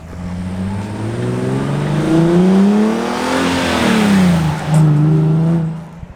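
Nissan 370Z fitted with new intakes revs as it drives past, its engine note rising and falling in pitch with a Doppler sweep, loud and close at the peak of the pass with no talk.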